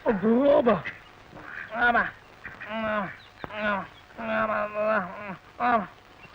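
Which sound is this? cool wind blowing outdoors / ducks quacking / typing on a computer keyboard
ducks quacking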